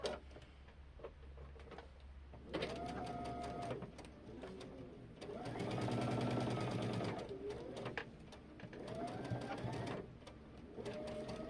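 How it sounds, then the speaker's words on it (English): Sewing machine stitches pinned quilt block pieces for a river rock star quilt block, whirring in three close stop-start runs of rapid ticking, the middle run the longest, with no talking. "let's get this one sewn"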